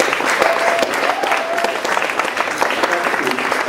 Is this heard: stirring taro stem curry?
no